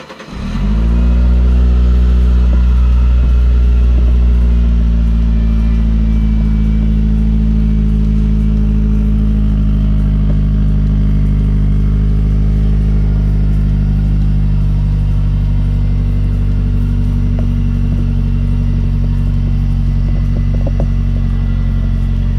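An unusual motorbike engine starts with a sharp crank, then settles into a deep, loud, steady car-like rumble that runs close and unbroken, with faint light revving and no talk.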